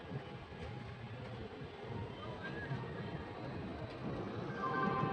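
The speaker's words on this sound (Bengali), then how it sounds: "ওদিকে এসে ঢুকছে দেখো লোকমান্য তিলক, রাক্সোল জনসাধারণ এক্সপ্রেস" The crowded Lokmanya Tilak–Raxaul Janasadharan Express, made up entirely of general coaches, pulls into a busy station with a low, continuous rumble of rolling wheels and carriages, fairly distant and swelling slightly toward the end.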